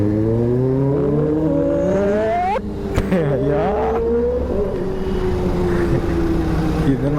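A Kawasaki Ninja ZX-10R engine revs loudly close by, its pitch climbing in a sharp rise and then dropping back to a strong, steady high idle with a few smaller throttle blips.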